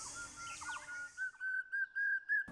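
Call of the white-winged wood duck in Assam: a series of clear, high whistled notes repeated in short bursts, rising in loudness toward the end, after a brief stretch of fainter mixed chirps.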